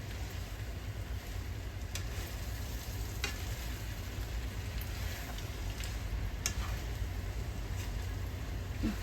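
Pad thai with shrimp and scallops stir-fried in a home kitchen pan gives a steady, loud sizzle that runs the whole time, with a few faint scraping stirs over it.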